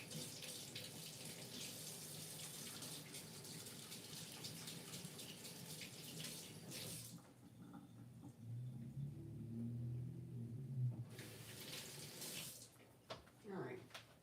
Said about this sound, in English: I'm going to rinse off my hands real quick.